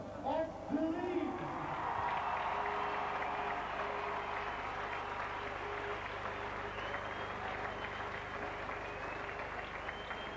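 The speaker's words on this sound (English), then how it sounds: "give a big round of applause as they make the lap of honour" A stadium crowd applauds steadily as the Bradford Bulls rugby league team, top of the league, make their lap of honour with the shield; broad, sustained clapping with a brief voice near the start.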